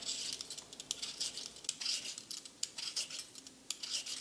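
Quick, crisp cutting taps and scrapes of a knife slicing potatoes on a board, repeated at an uneven pace, fairly quiet and close.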